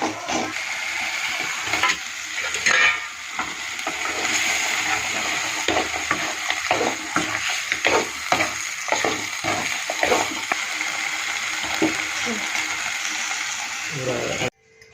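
Mutton frying with spice paste in a pan while being stirred: steady sizzle with repeated scraping and clattering strokes, fairly close, and some background voice at times.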